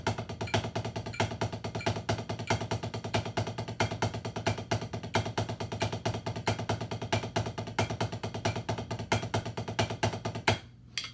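A drum rudiment warm-up with two accents per group: a dense, fast, steady stream of close strokes, with regular louder accents giving a repeating pulse, before it stops abruptly near the end.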